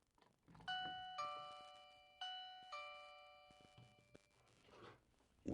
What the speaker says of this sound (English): And we did hear the chime ring.